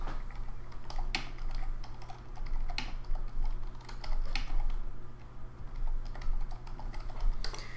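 Steady typing on a computer keyboard, close and clear, with irregular bursts of key clicks over a constant low electrical hum and no voices.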